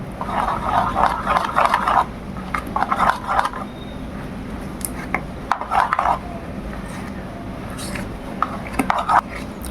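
Mango pulp being stirred into an eggless cake batter in a bowl, giving repeated bursts of soft scraping and mixing strokes with short pauses between them, close and moderately loud.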